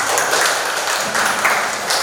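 Students in a classroom applaud a classmate, a continuous crowd of hand claps that stays even and fairly loud throughout.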